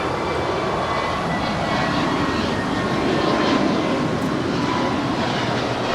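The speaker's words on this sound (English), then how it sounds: "we have a beautiful A321. It's 3 years old and it's going to Seattle" Steady, loud broadband roar of a three-year-old Alaska Airlines Airbus A321 jet at Los Angeles International Airport, a continuous engine rumble and hiss holding for the whole stretch without any voices.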